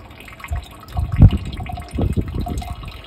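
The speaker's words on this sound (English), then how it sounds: "So it's collecting water for minutes and minutes after." Rainwater keeps trickling and gurgling into a collecting container after a rainstorm. Irregular splashes and gushes rise and fall in soft bursts, and no voices are heard.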